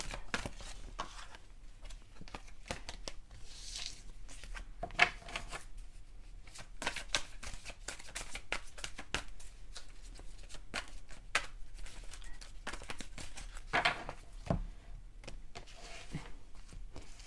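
Tarot cards are shuffled over and over, a run of crisp riffling and slapping bursts at close range, fairly quiet and irregular, with no talk.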